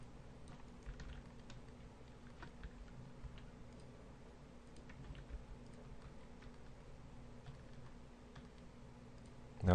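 Quiet, steady clicking and light keyboard tapping from a computer mouse and keyboard while working in 3D design software, scattered irregular ticks over faint room hum.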